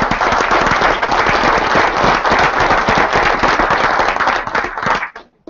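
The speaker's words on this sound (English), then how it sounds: "So give all of yourselves a round of applause." Round of applause from an audience at a Lucrazon Global business event in New York: loud, crackling, dense clapping close by that stays steady, then tapers off quickly into quiet at the end.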